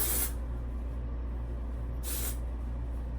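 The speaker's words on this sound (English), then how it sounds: "just spray it on the top to give it a little volume" Two short hissing bursts of dry shampoo aerosol sprayed onto hair, one at the start and another a couple of seconds later, over a low steady hum.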